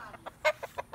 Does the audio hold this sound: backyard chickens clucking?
yes